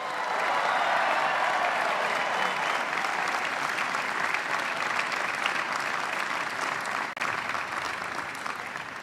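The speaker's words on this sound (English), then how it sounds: "Would you please join me in giving our musicians a well-deserved round of applause?" An audience at a university commencement ceremony applauds the musicians with loud, dense, sustained clapping that fills the hall for about nine seconds and eases slightly near the end.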